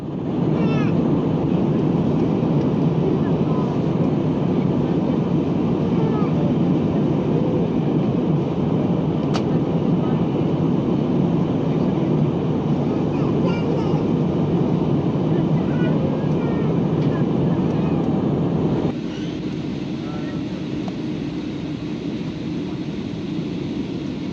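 Steady cabin roar of an airliner in flight from Bangalore to Chennai, a continuous loud broadband rumble with engine and airflow noise that drops slightly in level near the end, with no talk.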